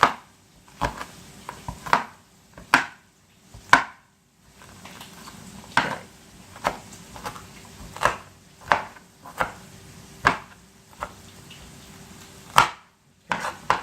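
A knife chops onion on a board in close, sharp thuds, sometimes single and sometimes in quick pairs, spaced about a second apart over a low background hum. Nobody speaks.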